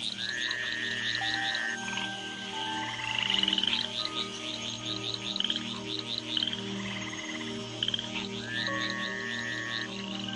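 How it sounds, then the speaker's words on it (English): Tree frogs call in a communal chorus after rain in jaguar habitat, with rapid trilling bursts and repeated rising whistles over a steady droning background, no voices. "In the wake of the rains, the tree frogs gather for bouts of communal cuckling."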